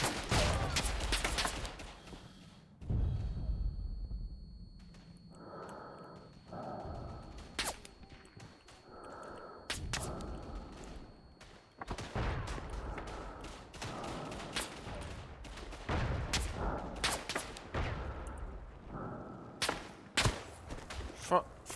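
Machine gun bursts and scattered rifle shots in the World War One game Verdun, fired in rapid clusters both near and farther off, with someone talking between the volleys.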